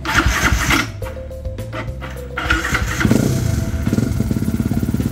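A Yamaha WR 155 motorcycle with a bored-up engine is cranked on the starter with a few rough bursts, fires, then runs at a fast, evenly pulsing idle up close.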